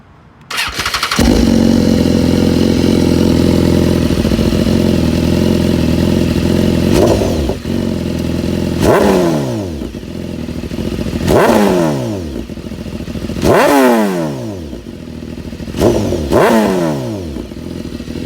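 A 2010–2014 BMW S1000RR, decatted and fitted with a slip-on exhaust, starts and idles loudly up close, then is blipped through a series of sharp throttle revs that rise and fall in pitch about every two seconds.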